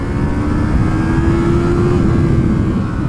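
A 2020 Yamaha MT-03 motorcycle engine revs as the throttle is twisted fully open, giving a loud, close, sustained roar with a steady rising tone across the few seconds, with no voices.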